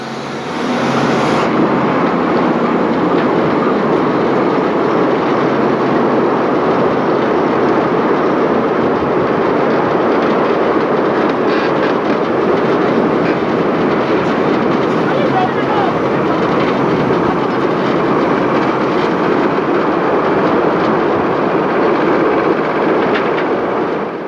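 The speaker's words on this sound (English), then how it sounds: "These massive highway locomotives were the biggest ever produced." A heavy-haul freight train pulled by massive Canadian-built locomotives runs on South African railways, making a loud, continuous rumble with a rolling clatter of wagons that carries on throughout.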